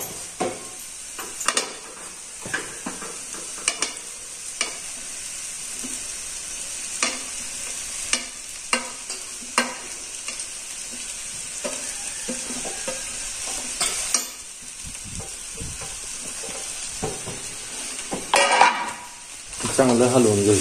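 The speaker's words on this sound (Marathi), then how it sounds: "चांगलं हलवून घ्यायचं आता मस्त पैकी हलवून घ्यायचं" Poha (flattened rice) being stirred as it fries in a pan, with a steady sizzle and frequent scraping strokes of a spoon against the metal, close and continuous for about twenty seconds.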